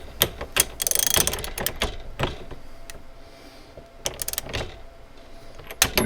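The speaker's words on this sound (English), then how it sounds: "you're going to want to run the handle down" The handle is run down on a Dillon 1050 reloading press, giving a flurry of close metallic clicks, ratcheting and clunks in irregular bursts across several seconds.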